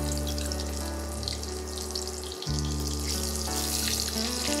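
Small shrimp fry in hot oil over a low flame, giving a close, steady crackling hiss over a low hum, briefly interrupted midway, with no talk.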